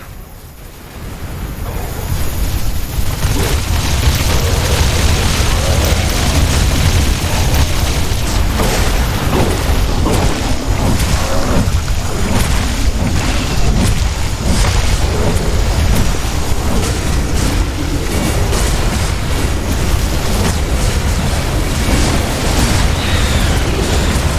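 Heavy rumbling explosions as buildings are destroyed in The Riftbreaker, a continuous dense roar of booms and debris sustained loud throughout with no talk.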